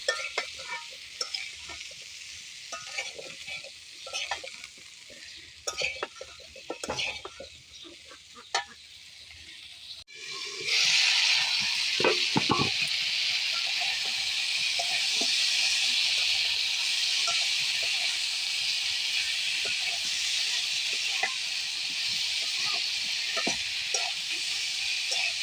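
Curry masala fries and sizzles in a pan while being stirred, a steady loud hiss with scraping strokes that jumps sharply louder midway as tomatoes are added to the hot pan.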